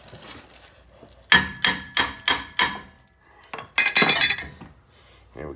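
A hammer strikes a seized brake rotor on a Dodge Ram 2500 HD in a quick series of five ringing blows, then a short pause and a few more clanging hits, up close.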